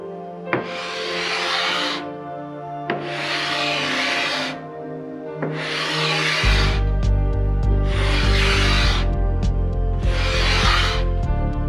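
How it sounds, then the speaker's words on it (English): Old finish is scraped off a wooden secretary desk in five long, even strokes, each a loud, close rasping scrape separated by short pauses, with a low hum entering partway through. "Now we'll see if this stuff will scrape off."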